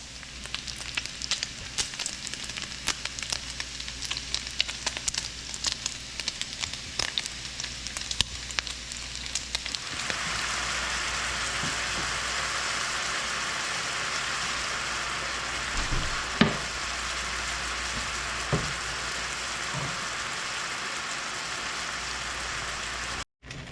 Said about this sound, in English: We're gonna be using the bacon fat as well to help sear the meat.